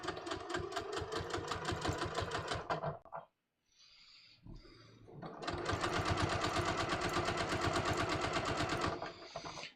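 A sewing machine stitches knit fabric in two long, steady bursts of rapid needle strokes, separated by a short pause of quiet handling. The stitching is close and loud.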